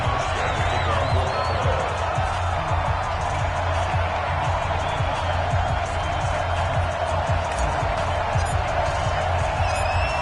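A sold-out stadium crowd at New Era Field before a Bills versus San Francisco 49ers football game produces a dense, continuous roar of cheering that holds at a steady level throughout, heard from within the stands.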